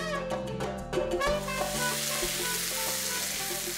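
Yellow and red bell peppers with garlic stir-frying in a hot pan, a steady broadband sizzle filling the clip, with soft stirring scrapes near the start and a low music bed underneath.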